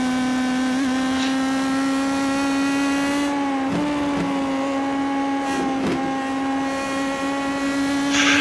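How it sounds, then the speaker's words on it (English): Simulated open-wheel race car in iRacing at Nashville Fairgrounds Speedway, its engine holding a steady buzzing drone that dips and shifts with brief thumps and scrapes as the car bottoms out over bumps through a turn. "you can hear the car bottom out through turn 4"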